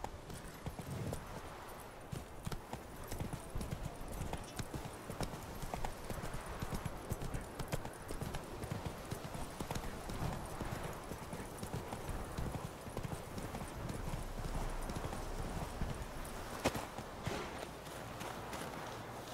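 Horse hooves clip-clop steadily on the ground throughout, a continuous walking rhythm close by, with an occasional whinny and faint talk in the background; the horse is Roach in The Witcher 3.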